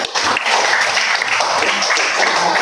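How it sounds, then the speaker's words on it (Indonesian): A primary school class applauds a student named David, a loud, dense burst of many children clapping that begins abruptly and holds steady to the end. "tepuk tangan untuk teman kita David"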